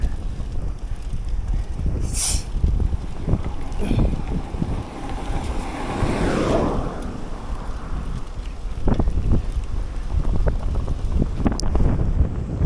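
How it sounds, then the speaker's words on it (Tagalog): Heavy wind buffeting the microphone in low rumbling gusts, with water and engine noise underneath, steady throughout. "Taas pa ng hangin."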